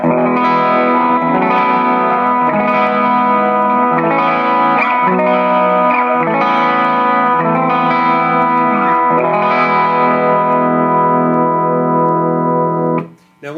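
An electric guitar played softly through a Mad Professor Sweet Honey Overdrive pedal, strummed chords with a mild, warm breakup that ring on steadily and clearly before stopping at the end, without any talking.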